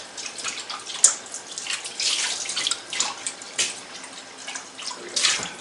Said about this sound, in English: I'm just going to rinse this off